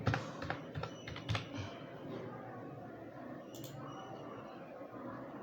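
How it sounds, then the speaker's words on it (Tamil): A registration number is keyed in on a computer keyboard. A quick run of close key clicks comes at the start, then the sound fades to steady room noise with one more faint tap. "சேம் அதே நம்பரை நீங்கள் கீழே டைப் பண்ணணும்"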